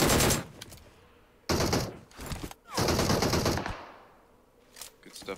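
Gunfire in a first-person shooter game played on an iPhone 11, rapid automatic bursts in several loud, close clusters with short quiet gaps between them, and a voice talking in the background.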